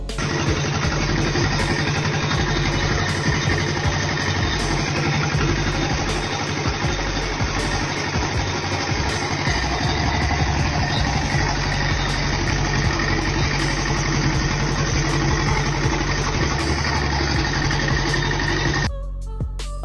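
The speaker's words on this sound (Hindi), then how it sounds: "जिसने अपनी गाड़ी के इंजन के साथ गन्ने का रस निकालने वाली मशीन अटैच कर दी है।" Car engine driving an attached sugarcane juice machine, a steady loud idling rumble with mechanical whir running nearly the whole time before stopping suddenly at the end.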